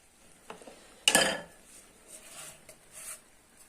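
Fish meatballs being stirred in a boiling pot: a spoon scrapes and clinks against the metal, one brief louder rattle, then softer bubbling and light stirring, quiet and close.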